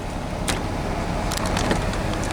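A parked truck's engine idles in a steady low rumble that fills the clip, with a few faint clicks and rattles on top and no speech.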